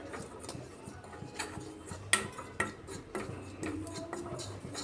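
Gram flour (besan) being stirred as it dry-roasts in a pan, with a steady run of light scraping and clinking taps from the spoon against the metal, close and fairly faint, with no talk.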